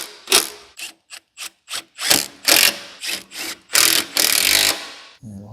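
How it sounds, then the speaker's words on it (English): A ratchet wrench cranks in quick bursts while bolting an ABS pump bracket onto a restored SVT Lightning truck frame, a run of sharp clicking pulls followed by longer grinding strokes, close and loud with no talk. "Bolting this bad boy onto the frame."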